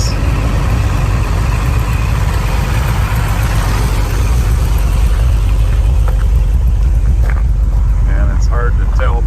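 A 1966 Chevy Chevelle SS with a blueprint motor running smoothly, a steady low engine drone with strong wind and road rumble as it cruises, and someone talking over it.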